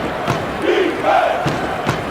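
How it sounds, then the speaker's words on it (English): Simulated arena crowd at the Toyota Center in Houston, a college basketball game between Alabama and Houston, producing a steady roar of fans with swelling cheers and scattered yells throughout, with no talk on top. "Crowd here getting into it here down at the Toyota Center."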